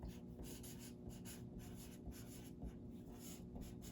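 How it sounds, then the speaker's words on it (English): Pen scratching steadily across paper while a fraction is written out, close and continuous with soft rhythmic strokes over a faint low background hum. "Now, I could write the fraction 3/5 like this"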